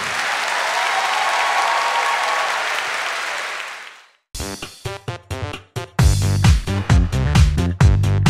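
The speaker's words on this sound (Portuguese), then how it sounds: "Aplauda forte!" Loud audience applause from a church congregation fills the first four seconds as a dense, steady roar, then cuts off abruptly before music begins.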